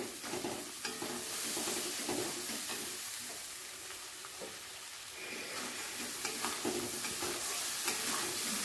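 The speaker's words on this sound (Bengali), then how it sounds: "এই মশলাগুলোকে একসাথে করে সব ভালো করে ফ্রাই করে নিতে হবে" Chili paste and spices fry together in a pan for a rohu fish curry, a soft but steady sizzle and hiss with intermittent stirring scrapes across the whole stretch and no talking.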